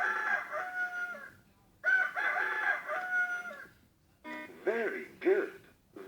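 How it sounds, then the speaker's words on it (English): A red rooster crows in two long, drawn-out calls, followed by a few short, rising clucks or crows, fairly close and clear with short pauses between. "This is the red rooster."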